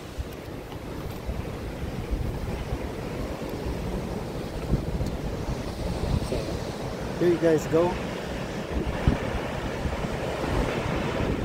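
Steady roar of ocean surf and gusting wind against the microphone at Lincoln City, Oregon, continuous throughout, with a brief spoken remark partway through.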